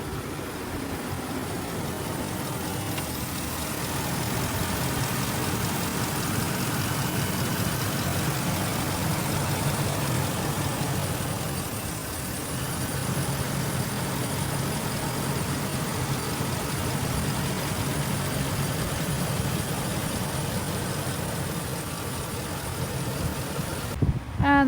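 A 2019 Ford E-350 dually 16-foot box truck with a 6.2 liter V8 flex fuel engine idles, giving a steady, continuous low rumble and hum that stays even throughout with no talking.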